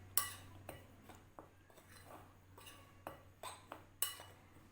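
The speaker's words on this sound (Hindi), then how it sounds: "इसको हमने अच्छा सा इस तरह से मिक्स कर लेना है।" Utensil scraping and clinking in a bowl while fritter batter of flour, semolina and sugar is mixed by hand, a series of sharp, close knocks spaced irregularly over a low steady hum.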